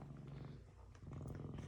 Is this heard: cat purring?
yes